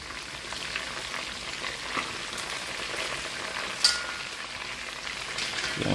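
Fish sizzles steadily in hot oil in a pan after being turned to the other side, a dense, even crackle with a few sharper pops, close and fairly loud with no talking.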